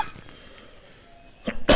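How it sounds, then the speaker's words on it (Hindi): A single person coughs near the end, two quick harsh bursts close to the microphone after a quiet stretch of room tone, with no speech around them. "सॉरी खांसी आ गई।"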